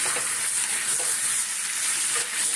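Potato, pointed gourd and prawns with yogurt sizzle in a pan with a continuous loud hiss, while a few soft stirring scrapes sound under it.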